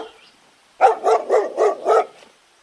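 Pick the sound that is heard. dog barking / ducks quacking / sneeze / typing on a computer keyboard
dog barking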